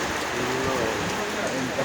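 Steady, dense rain hisses close by at Dharmasthala, a continuous wash of drops with faint voices murmuring beneath it.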